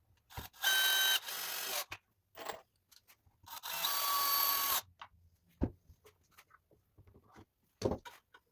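A power drill driving screws into scrap wood pieces to join a clamped wooden box's sides and front, in two loud whirring bursts of about a second each, followed by sparse knocks and handling clatter.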